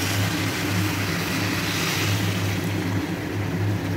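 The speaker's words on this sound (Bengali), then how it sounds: "তো এখন আমি গরম জলটা ঢেলে দেবো।" Hot water poured into a cooking pot for a late-night one-pot meal, a steady, continuous rushing wash that holds at an even loudness throughout, with no voices.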